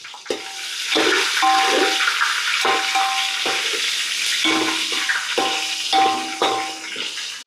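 Green chillies are dropped into hot oil while a vegetarian pulao is being cooked, giving a steady loud sizzle broken by repeated stirring scrapes and clatters, with no talking.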